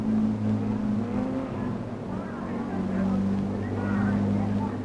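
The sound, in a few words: racing cars starting the first lap of an endurance road race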